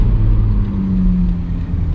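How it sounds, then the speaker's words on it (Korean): A BMW Z4 30i (sDrive) with a turbocharged four-cylinder engine accelerating in sport mode gives a steady, full engine drone with a gently rising tone and road noise, heard from inside the car without talk. "지금 스포츠 모드를 놓고 가고 있는데 사운드는 너무나 좋죠."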